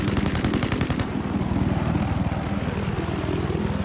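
Rapid automatic gunfire from the Battlefield 4 video game rattles in a fast, steady burst for about a second, then gives way to a dense, continuous roar of battle noise and engine drone.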